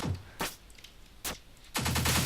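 Missile fire and blasts in the video game Pineapple Smash Crew: a few sharp, loud bursts spaced apart, the last swelling into a sustained roaring volley of explosions.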